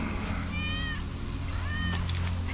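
Wedge's cat in the video game Final Fantasy VII Remake gives two short, clear meows about a second apart over a steady low game ambience.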